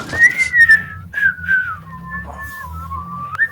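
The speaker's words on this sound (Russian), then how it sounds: "Кто свистит?" A person whistles a wavering, sliding tune alone, loud and close, over a low background hum.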